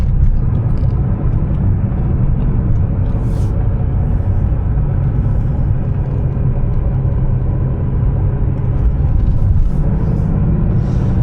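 A classic 1980s Porsche driving across a swing bridge on a chilly day, with a steady, loud low engine and road rumble heard from inside the car throughout.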